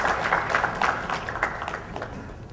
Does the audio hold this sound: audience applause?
yes